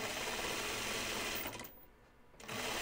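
Sewing machine running steadily while stitching a French seam on a caftan, a dense continuous whir that dips briefly into near quiet mid-clip before resuming at full pace, with no talking.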